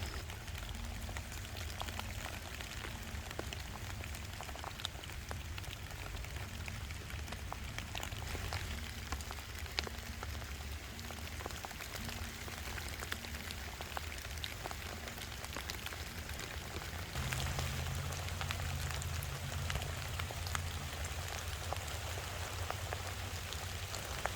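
Rain falls steadily outdoors on a homestead, a soft continuous patter of drops on surfaces, faint and unbroken throughout with no voices.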